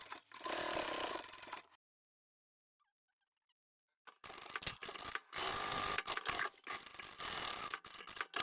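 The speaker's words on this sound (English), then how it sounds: "Along the bottom edge I'll sew part way and backstitch" A sewing machine runs along the bottom edge of a fluffy bag, sewing part way and backstitching. Two bursts of motor whir come close up, split by a silent pause, and the second bursts stutter briefly.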